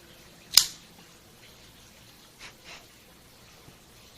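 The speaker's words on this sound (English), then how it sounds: "Let's go ahead and give it a cut." A Rocky Patel ALR cigar is cut in a quiet room with a single crisp snip of a cutter, followed by two faint soft rustles.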